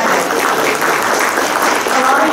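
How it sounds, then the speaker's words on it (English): Dense, steady applause from an audience at a history symposium, a continuous wash of many hands clapping at even loudness throughout, with no voices standing out. "so we should give Mike an applause"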